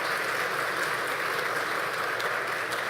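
A crowd applauds at a solemn session in a municipal council chamber marking Spiritist Day. The clapping is even and sustained, a dense wash that holds at the same loudness throughout.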